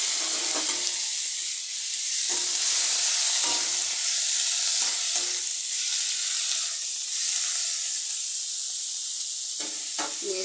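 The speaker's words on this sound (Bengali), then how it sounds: "পেঁয়াজগুলি ছেড়ে দেবো।" Sliced onions hit hot oil already tempered with nigella seeds, for a fish dish with poppy-seed paste. The loud, steady sizzle runs with occasional stirring scrapes and no talk.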